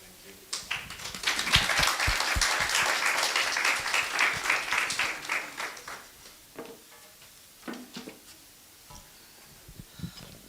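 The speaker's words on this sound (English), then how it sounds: "Can we please give them another round of applause?" A crowd applauds panel guests at a cybersecurity conference, steady full clapping swelling for several seconds, then thinning into scattered individual claps.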